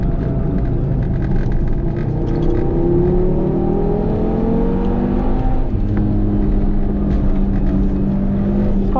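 An Audi TT RS drives hard on a race track, its engine droning loud and continuous with rising and falling pitch as it accelerates and shifts, heard from inside the car without talk.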